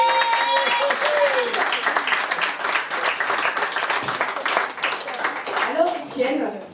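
Concert audience at La Zonmé in Nice applauding steadily for several seconds, a dense wash of claps with voices mixed in and someone speaking over it near the end.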